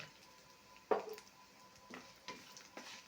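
Grated coconut stirred in a pan while gourd bharit is made, giving a few soft scraping stirs and a faint low sizzle, with one sharper clink near the start and quieter scrapes later.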